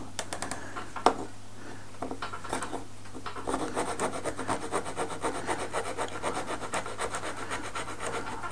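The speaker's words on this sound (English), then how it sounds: "Best tool for that is a razor saw." A razor saw cuts a wooden keel piece for a Kestrel 25 model boat kit, making a close, rapid, even rasping of short strokes that starts hesitantly and then settles into a steady rhythm.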